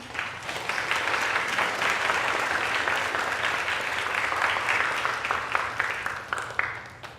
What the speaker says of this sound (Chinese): 我们起立一下，我们拍手欢迎他。